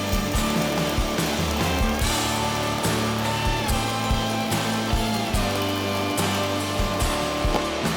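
Steady crackling buzz with a low electrical hum, continuous for several seconds, of electric arc welding a seam close by, with irregular sharp pops throughout.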